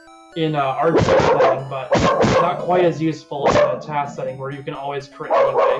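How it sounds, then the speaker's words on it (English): A pet dog named Jerry barks and yips loudly in repeated bursts, mixed with whines, while someone speaks over the noise. "Yes, that's my dog Jerry"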